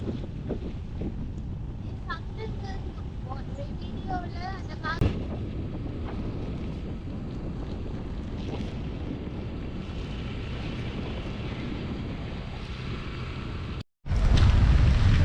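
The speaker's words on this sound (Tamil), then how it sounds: "இங்கால கொஞ்சம் காற்று சரியான பலமாக இருக்குது" Strong storm wind roars steadily over a stormy coastline in Jaffna, Sri Lanka, a loud continuous buffeting rush against the microphone with a brief dropout near the end.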